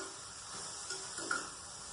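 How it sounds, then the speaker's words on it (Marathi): Bitter gourd (karela bhaji) frying in a pan over a high flame, a soft steady sizzle and hiss with a couple of faint scraping stirs, heard alone without talk. "थोडं फ्राय केलं ना की छान होईल भाजी."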